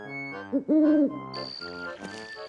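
A voice imitates an owl hoot in a cartoon camping scene by a lake, giving a few loud, sustained, wavering hoots that stand alone without talk.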